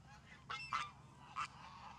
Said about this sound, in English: But Miss Pringles is my favorite goose.